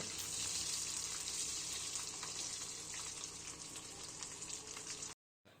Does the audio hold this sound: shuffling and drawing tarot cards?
no